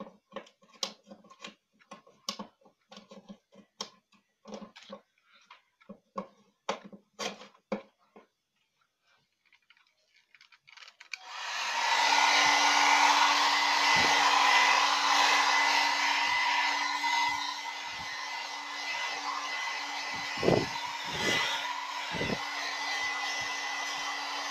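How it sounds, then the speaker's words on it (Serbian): A hair dryer dries paper, held back a little from it. After a run of sharp clicks and ticks, the dryer switches on and runs as a loud, steady whirring blast with a constant hum until the end. "Sad ćemo staviti fen, brzo da ga osušimo."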